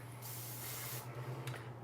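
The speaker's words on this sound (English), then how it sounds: "So now we're going to get back into our working spray." Working hair spray hisses out of an aerosol can onto styled hair in a short, close burst, with a second brief spritz near the end over a faint low hum.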